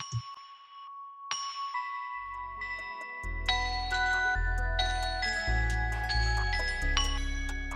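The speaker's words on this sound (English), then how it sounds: "Final thing on the melody is this kind of bell arp thing right here." Bright glockenspiel bell tones, Spitfire Audio Labs Glock, ring out in a rising, repeating arpeggio over low sustained synth chords in a pluggnb beat, notes chiming clearly and evenly.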